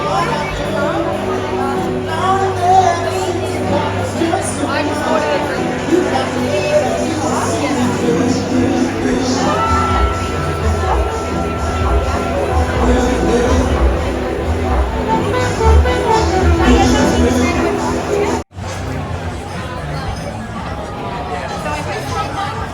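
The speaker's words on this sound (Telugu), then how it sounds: "జనం అంతా అట్లా తినుకుంటా తాగుకుంటా ఫుల్ ఎంజాయ్ చేస్తున్నారు" An outdoor crowd in Sydney eats, drinks and enjoys summer weather, making a steady murmur of many voices, with a voice talking over it nearby for most of the stretch.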